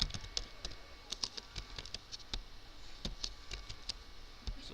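Typing on a computer keyboard, with a steady patter of light key clicks and a few sharper taps spread through the stretch, heard close and alone.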